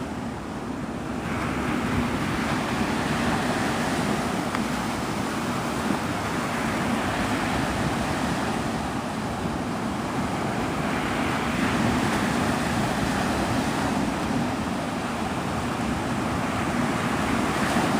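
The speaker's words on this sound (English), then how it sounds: "The waves are too rough for that." Rough ocean surf at Pensacola Beach, Florida, roars in a constant, loud wash mixed with wind buffeting, with no one speaking.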